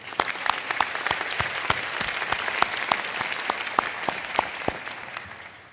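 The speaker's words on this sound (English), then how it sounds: "Let's give another round of applause for your loved ones," Audience at a medical school commencement applauds, a dense, sustained crowd clapping with sharp individual claps standing out near the microphone, steady and loud before fading slightly at the end.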